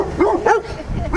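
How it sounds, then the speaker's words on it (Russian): A large ginger dog barks and yelps in quick, close bursts, loud and agitated, outdoors on a street. "Собака рвется, смотрите какая."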